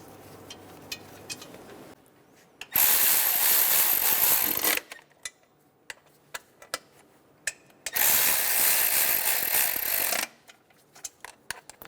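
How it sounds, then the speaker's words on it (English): A ratchet snugs down bolts on the intake manifold of a 2003-2007 Honda Accord 3.0L V6. Two long, loud bursts of rapid ratcheting are separated by scattered sharp clicks and taps of handling. "Go around snugging down the bolts."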